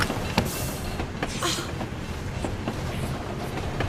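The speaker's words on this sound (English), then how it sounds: "The train, it's stopping." A train runs in the 007 Bloodstone video game, a close, steady rumble with rhythmic clicks and clacks from the wheels that carries on throughout.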